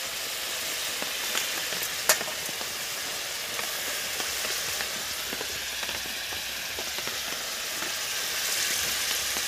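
Rui fish pieces sizzling after going into hot gravy in a pan: a steady, crackling fry with faint scattered pops and a soft clink near the start.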